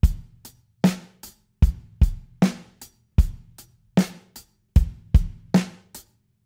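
A drum kit plays a straight eighth-note rock beat, hi-hat ticking over alternating bass and snare hits in a steady, even rhythm, played alone with no voices.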